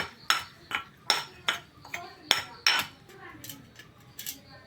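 Chilli flakes for ulli chammanthi are pounded by hand in sharp, regular strikes, about a dozen close knocks that grow softer toward the end, with no talking.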